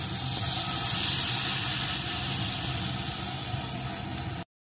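Soybean kofta balls frying in oil, a dense, even sizzle with hissing bubbling that holds steady and close before cutting off abruptly, no voices.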